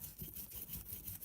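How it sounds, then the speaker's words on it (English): Stiff brush scrubbing SU carburetor parts from a 240Z soaked in carb cleaner, a close rhythmic back-and-forth scratching with repeated strokes, no talk. "Just get everything pretty wet, and then I use a brush of some kind"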